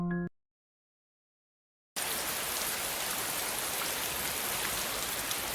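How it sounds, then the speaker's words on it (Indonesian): Heavy rain pours onto a car windshield on a deserted highway: after a short tone and a silent gap, a dense, even hiss of rain starts suddenly and continues loud and unbroken. "Hujan mencurah-curah di cermin depan kereta ketika Aaron memandu di lebuh raya yang sunyi."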